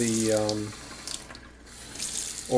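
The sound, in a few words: hot water from tap trickling over wax paper on meat patty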